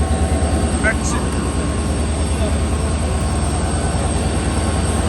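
A loud, continuous rumble of a train at Ludhiana railway station with steady low droning and rattling, heard up close; faint voices surface briefly in the mix.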